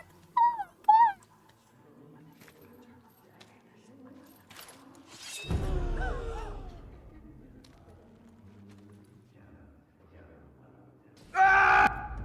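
A dog in the Dragon Age: Origins video game, with a few short yelps and whimpers early on, a louder bark and growl in the middle, and another yelp near the end, mixed with game sounds.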